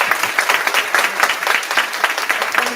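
A crowd applauds steadily, many hands clapping in a dense, even patter for a few seconds with no voices.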